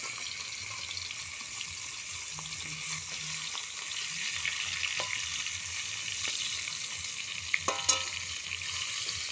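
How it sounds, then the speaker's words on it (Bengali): A whole batch of fish tipped at once into hot oil in a kadai crackles with a steady, bright sizzle, close and continuous, with a few sharp pops and clinks near the end and no voices. "একবারে সব মাছ ঢেলে দিলাম।"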